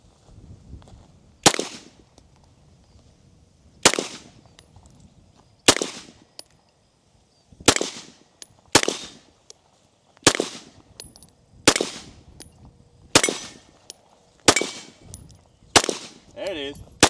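Firearms shot one at a time outdoors, including a SOCOM rifle fired alongside another gun: sharp loud single reports spaced about one to two seconds apart, each with a short ringing decay and quiet between shots.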